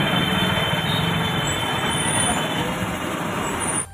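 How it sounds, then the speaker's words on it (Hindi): Dense city road traffic in Jhansi, the city of Rani Lakshmibai, heard from a bicycle on an all-India tour: a steady, loud roar of engines from buses, cars and trucks close by, with no clear horn or voice standing out. "जैसे ट्रैफिक लग गया है यहाँ पर भाई"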